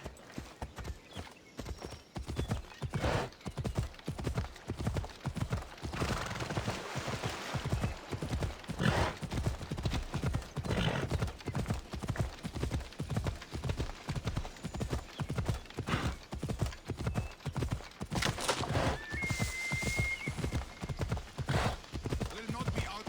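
A horse gallops in the game Assassin's Creed Odyssey, its hooves pounding in a fast, even rhythm for over twenty seconds, with a brief whinny and some voices in the background.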